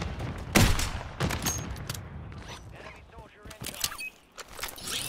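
Gunfire from a Warzone match in Urzikstan comes as a few sharp close shots and scattered bursts, mixed with game noise and brief talk.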